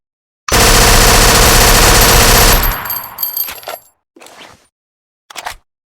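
SIG 516 assault rifle from an animated gun showcase fires a loud, rapid automatic burst for about two seconds, followed by mechanical clicks and rattles, then two short metallic handling sounds after brief pauses.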